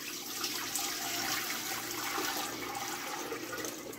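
White vinegar pours steadily into a heavy-bottomed pot, a continuous splashing liquid stream heard close and without a break, with no talking over it.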